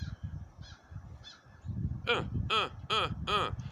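Four loud, harsh crow caws in a steady rhythm, following a stretch of softer background noise and faint calls.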